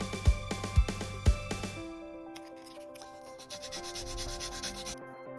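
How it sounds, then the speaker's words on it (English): A surface is polished to remove excess epoxy adhesive before a strain sensor is attached: three sharp rubbing strokes, then softer continuous close scrubbing and rubbing, no talking. "If it adheres, polish the surface and remove any excess adhesive."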